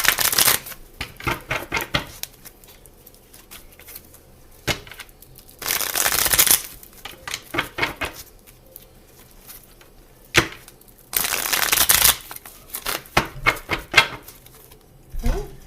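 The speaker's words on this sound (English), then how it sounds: "This deck is kind of hard to like shuffle." Repeated bursts of cards being shuffled, crisp riffling rushes spread out with quiet pauses between, close to the listener.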